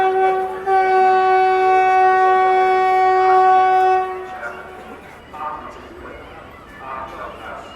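A train's horn sounds at a railway station on the route from Howrah to Varanasi, a loud steady sustained blast lasting about four seconds, then station crowd noise and voices.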